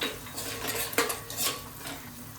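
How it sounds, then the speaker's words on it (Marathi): Masala and softened onion frying in a pan for crab curry, heard mainly as close metallic clinks and scrapes of a utensil against the pan over a low background hiss. "त्याच्यावरती मी आता मसाला घालते। जरा तळल्यासारखा होईल मसाला"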